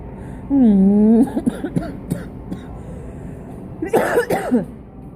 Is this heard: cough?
yes